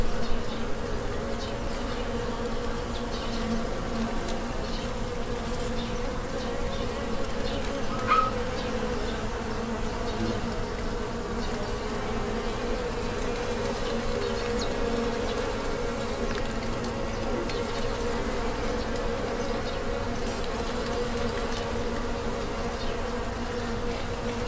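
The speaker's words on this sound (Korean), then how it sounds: "이게 꿀벌의 소리예요." Honeybees buzz steadily and densely for the whole stretch, a continuous drone of many wings at a constant level outdoors, with no voices.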